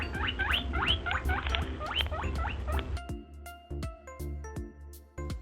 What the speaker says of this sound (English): the sound of rabbit,